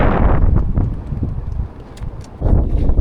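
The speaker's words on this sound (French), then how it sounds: "on va pas m'entendre avec le vent" Strong wind in the Jordanne valley buffets the microphone in loud, rough gusts, easing briefly in the middle before roaring back.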